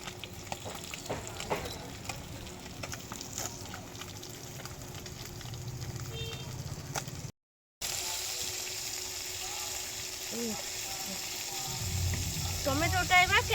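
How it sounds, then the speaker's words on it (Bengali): Pieces of bhola fish frying in hot oil, a steady close sizzle and bubbling that runs throughout, with a brief gap and a louder crackle near the end, while a voice talks over it. "বাকি মাছগুলো এবার ভেজে নিচ্ছি"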